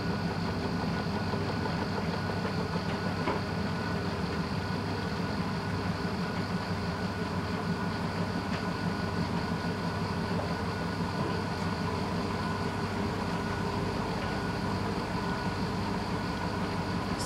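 An unbalanced Blomberg washing machine spins at 600 RPM, giving a steady rumbling drone with rhythmic knocking and rattling throughout, moderately loud and continuous.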